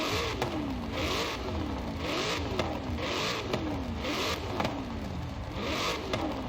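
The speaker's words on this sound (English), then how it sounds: "let's see how the mid-engine Corvette sounds" A mid-engine Chevrolet Corvette V8 in a racing video game revs up and down in repeated rising sweeps, loud and close, with crackles between pulls and no voices.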